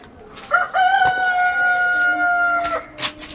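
A rooster crows loudly and close by, one long sustained call with a drawn-out tonal middle, followed by a short burst of noise at the end.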